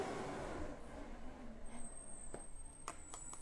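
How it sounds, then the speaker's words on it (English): A garbage truck passes outside an indoor crafting space, heard as a muffled low rumble with a hissing air brake and a high whine near the end, distant and fairly faint. "There goes the garbage truck again."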